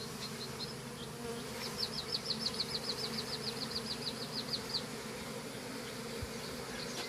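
Honeybees shaken from comb onto a floor buzz in a close, wavering drone, with a run of quick, pulsing wingbeat bursts through the middle over a steady low hum.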